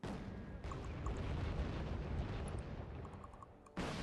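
Mortar fire in the Wargame Red Dragon video game: a dense, continuous rumble of explosions with scattered pops, loud and sustained throughout, with a brief drop before a fresh burst at the end.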